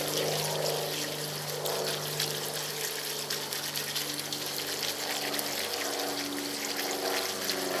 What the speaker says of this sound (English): we're gonna rinse our clay pellets